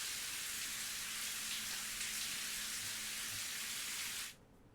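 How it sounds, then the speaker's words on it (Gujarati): Rain showers fall steadily around Ahwa in Gujarat as a soft, even hiss, faint and continuous with no voices, fading out just before the end. "આહવા પંથકમાં વરસાદી ઝાપટા પડતા જનજીવન પ્રભાવિત થયું છે"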